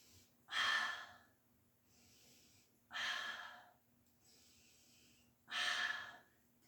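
Heavy breathing during a pilates plank: three long, deep exhalations roughly two and a half seconds apart, with softer inhales between, close and fairly quiet.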